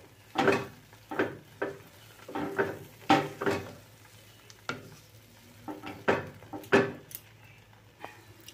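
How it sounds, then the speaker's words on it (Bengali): Bread rasmalai being stirred through milk in a pan over a low flame, a spoon scraping and clinking against the pan in uneven strokes, close and fairly clear. "দুধের সাথে এটাকে ভালো করে মিশাতে থাকবো।"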